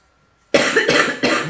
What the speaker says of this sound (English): might have to have another coughing break